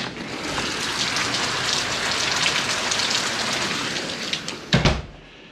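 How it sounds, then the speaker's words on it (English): Steady heavy rain pours down in Florida, a dense continuous hiss close by, ending with a couple of louder thumps before it cuts off. "it's raining again in the lovely state of Florida."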